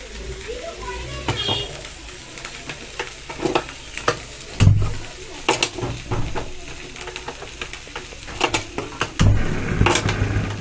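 Potatoes and spring onions fry in a pan with a steady sizzle, broken by stirring knocks and scrapes, while a person talks over the cooking.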